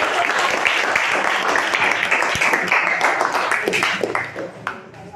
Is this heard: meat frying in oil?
no